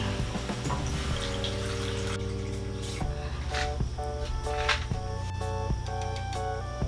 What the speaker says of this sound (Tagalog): Maglalagay po ako ng tubig.